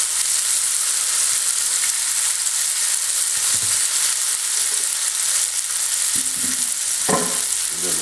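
Pork loin sears in a hot pan, giving a loud, continuous sizzle and frying hiss throughout, with a few soft scrapes and knocks of a utensil near the end.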